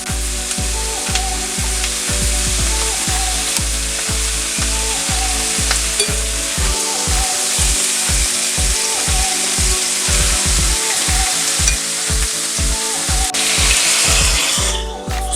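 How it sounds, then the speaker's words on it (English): Steak frying for fajitas sizzles steadily in a hot pan, a loud continuous crackle with regular rhythmic scraping or stirring strokes running through it, close and alone without talk. "Cook the steak. It's gonna sizzle. You have to hear the sizzle."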